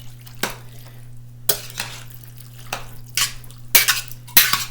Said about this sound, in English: And then let's stir that up.